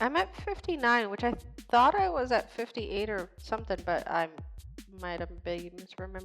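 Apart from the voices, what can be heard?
None of the usual background noises is heard.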